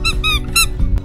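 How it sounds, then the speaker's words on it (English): A squeaky crocodile toy squeezed in three or four quick, high, whistling squeaks, loud and close, with a softer squeak near the end and no one talking. "Kim, there's actual crocodile toys that squeak."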